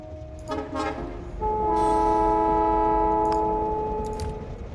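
Train horn in the Factorio video game, a sustained tonal blast lasting several seconds over rumbling rail noise, loud and close with no talk.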